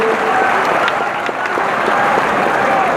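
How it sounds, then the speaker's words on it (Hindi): An audience at a college inauguration event in Patna breaks into loud, continuous applause for a guest, dense steady clapping that fills the hall. "एक बार जोरदार तालियां सर के लिए, तालियां बजती रहनी चाहिए।"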